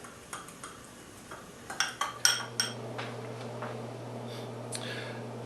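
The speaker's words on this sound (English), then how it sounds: "we're going to add these to it, and we're going to mix them up until we have them well blended." Spices for homemade chorizo are mixed together in a bowl, with irregular close clinks and taps of a utensil against the bowl over a faint steady hum.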